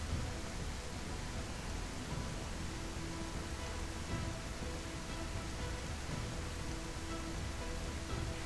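Heavy rain pours steadily in The Isle, a dense, constant hiss of falling water that fills the whole scene loudly and evenly, with no other sounds standing out.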